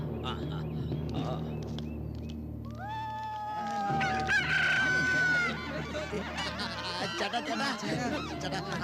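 A rooster crows loudly in a Tamil movie scene, its drawn-out rising call rising above steady background music and other noise, with a meowing-like cat sound mixed in.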